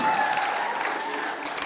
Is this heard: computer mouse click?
no